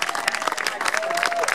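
A crowd claps at a garden tile wall unveiling as the ceremonial last tile goes up, a short dense patter of hands with voices calling out over it.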